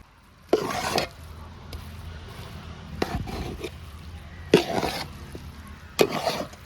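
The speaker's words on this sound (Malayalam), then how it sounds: "നല്ലപോലെ ഒന്ന് ഇളക്കി കൊടുക്കും" A spoon stirs beef and jackfruit biryani in a pot, with four loud bursts of scraping and clattering against the metal. Softer shuffling of rice fills the pauses, and there is no talking.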